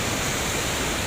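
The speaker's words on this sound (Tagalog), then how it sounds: "Narinig nyo ba yung lagasdas?" Steady, dense rushing water from the Laguna Falls waterfall, a continuous broadband roar filling the whole brief moment with no voices.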